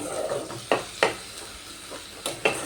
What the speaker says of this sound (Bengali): সব কিছু আবারও ভালোভাবে কষিয়ে নেব